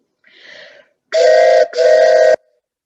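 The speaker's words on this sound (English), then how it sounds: "with a very loud whistle." A loud train whistle sounds in two long blasts after a softer, shorter toot, each harmonic and steady before cutting off.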